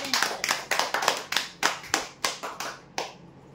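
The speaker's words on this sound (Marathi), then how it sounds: "जोरदार टाळ्या" Brief round of hand claps at a weekly prize draw for a rolling-chair winner, about a dozen sharp claps in a quick, slightly uneven rhythm from a small group nearby, fading out.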